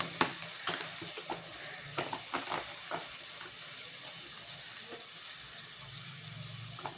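Spices sautéed in a pan for a lentil-egg fritter curry: soft continuous frying sizzle punctuated by repeated light clicks and scrapes of stirring, fairly quiet.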